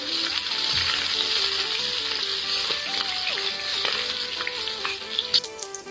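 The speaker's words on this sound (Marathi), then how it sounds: "गॅसवरती कढईत तेल टाकून तेल व्यवस्थित गरम करून त्याच्यामध्ये मिरची टाकायची आहे।" Green chillies fry in hot oil in a kadhai on a gas stove, giving a steady, close sizzle throughout, with faint tonal background music and a few light stirring clicks near the end.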